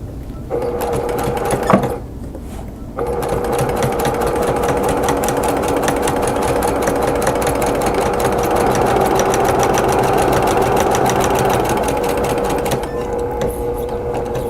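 A sewing machine stitching a quilt-as-you-go table runner runs in a loud, rapid, steady mechanical whir, close by, after a brief start-stop near the beginning, easing off near the end.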